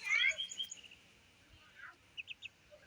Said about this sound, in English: So we've got the ducklings out here for the day.